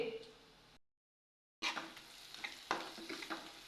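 Onion and chutney being stirred in a frying pan with a little asafoetida, a sizzling, scraping texture with clustered spatula strokes after a short gap, fairly close and moderate in level.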